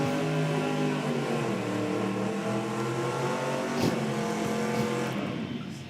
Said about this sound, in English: this Commodore down here is loud